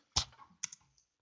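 A message being typed on a keyboard, a few quick close clicks and taps over about a second, quiet and isolated.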